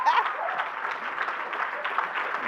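Audience at a memorial breakfast clapping hands together in a steady, dense patter of applause that holds evenly throughout, moderately loud and near, with no voices standing out.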